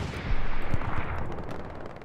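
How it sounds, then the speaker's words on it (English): Artillery shells land during a competitive Hell Let Loose match on Utah Beach, with deep rolling booms and blasts in the distance blending into a steady battlefield rumble, no voices. "artillery is just coming down straight onto them"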